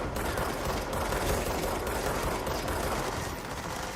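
Gunfire from the video game Control, a dense, continuous barrage of shots that fills the whole stretch at steady loudness, with no talk over it.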